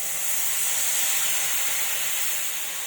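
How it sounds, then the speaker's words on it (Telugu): Tamarind juice poured into a simmering bitter gourd curry makes a steady, close hiss that holds evenly for about three seconds with no pauses and no voices. "ఇప్పుడు మనము ఇందులో చింతపండు నానబెట్టి పులుసు తీసుకున్నది ఇందులో పోసుకోవాలి"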